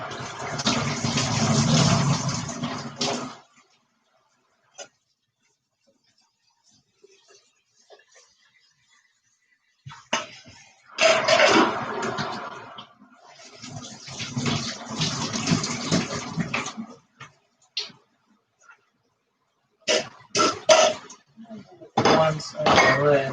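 Cold water pours over cooked potatoes in a pot in a home kitchen, a loud broad rushing splash in several bursts separated by quiet gaps, with clinks of cookware in between.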